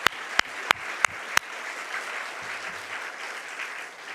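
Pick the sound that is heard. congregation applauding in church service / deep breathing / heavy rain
congregation applauding in church service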